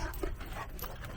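Puppies whimpering and yipping softly, with a faint high whine among brief, close little cries over quiet room noise.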